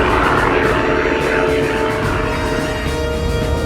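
An old propeller airplane's engine roars loudly and steadily, a dense droning buzz with a propeller hum that fills the whole stretch without pause.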